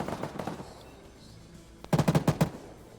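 Heavy machine gun in Arma 3 fires a quick burst of about six loud, punchy rounds in close rhythm, after a few fainter distant shots, with no talk.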